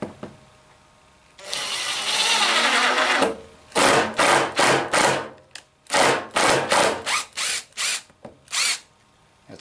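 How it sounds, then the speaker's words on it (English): A drill bores into wood for a cutting board: a long grinding whir, then a run of short, loud bursts as the trigger is pulsed repeatedly, close by. "I might have to get a bigger drill bit."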